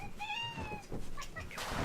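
A house cat whines with two drawn-out, rising-and-falling meows early on, close and fairly clear, then a person speaks over continuing background noise.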